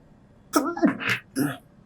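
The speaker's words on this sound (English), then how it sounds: "I feel a sneeze coming along" A single close sneeze bursts out, a sharp breathy explosion followed by a brief second puff, with quiet room tone around it.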